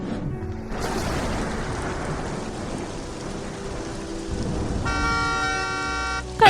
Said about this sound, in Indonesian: ini tengah malam dan hujan